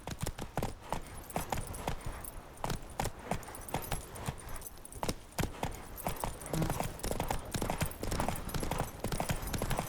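Hooves of Geralt's horse Roach in The Witcher 3, a steady rhythmic clip-clop at a trot or canter, close and fairly loud, with no speech over the steps.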